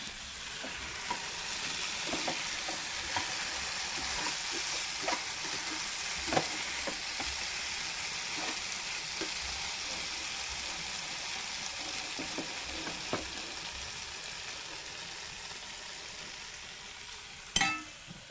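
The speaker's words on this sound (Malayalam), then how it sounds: "നമുക്ക് ഒന്ന് ഇളക്കി കൊടുക്കാം എണ്ണയൊക്കെ എല്ലായിടത്തും ഒന്ന് പിടിക്കട്ടെ" Curry ingredients being stirred in oil in a frying pan, a continuous gentle sizzle punctuated by scattered spatula scrapes and knocks, ending with a sharper clatter.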